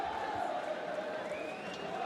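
Steady murmuring crowd noise at a basketball game between Cameroon and Rwanda, a dense tense hum with faint shouts and a rising whistle-like tone in the middle.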